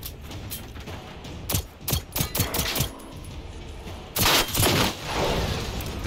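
Bursts of gunfire in the video game Generation Zero, sharp rapid shots fired in short volleys, then a longer louder burst, close and punchy against a low ambient background.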